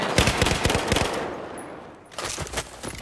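Bursts of rapid automatic gunfire in Battlefield 4 on the Siege of Shanghai map, loud and close, with a brief pause before another volley.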